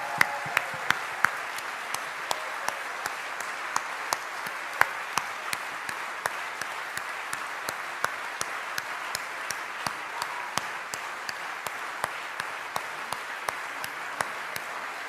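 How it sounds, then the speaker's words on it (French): Large crowd at an ecologist party congress applauding the national secretary, Marine Tondelier: sustained, dense applause lasting throughout, with sharp individual claps popping out of a steady roar. No one speaks. "un tonnerre d'applaudissements pour notre secrétaire nationale"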